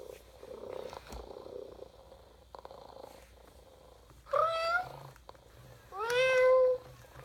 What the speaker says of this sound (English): They're purring together.